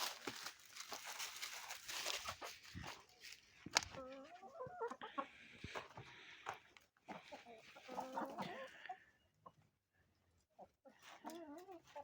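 Quiet, scattered clucks and soft calls from chickens, with rustling and a person talking intermittently nearby.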